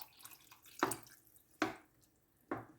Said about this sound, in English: I'll just pour in half and give it a stir.